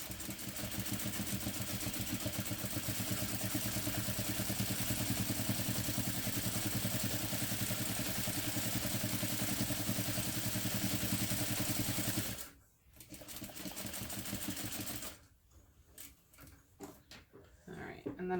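A sewing machine runs a line of stitching along the folded edge of a fabric bag handle, a steady, fast, even whir held for about twelve seconds before it stops, followed by a brief restart.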